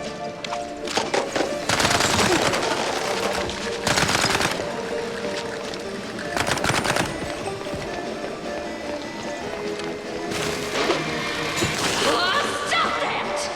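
Bursts of rapid gunfire from the Mouse P.I. For Hire video game come in repeated loud volleys over busy game music and effects, with several separate firing sequences across the clip.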